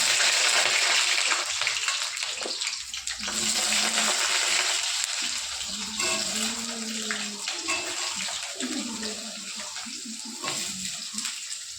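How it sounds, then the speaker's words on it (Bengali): Potato pieces fry in a pan of hot oil already used for frying, giving a continuous loud sizzle and bubbling hiss with some stirring and clatter. "এখন আমি ওই তেলেই আলুটা ভেজে নেব।"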